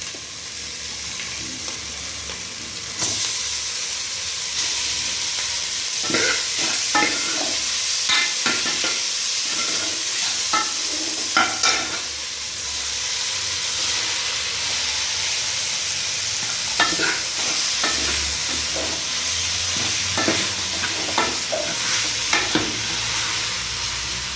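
Leftover cooked rice fries in a hot pan with a continuous loud sizzle, broken by repeated scraping and clattering strokes as it is stirred, up close and without talk.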